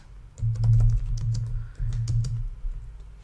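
Rapid clicks of fingers typing on a computer keyboard while writing a Power BI column, steady and close, with brief pauses between bursts and no voices.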